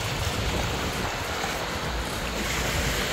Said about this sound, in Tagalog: At malakas ang alon.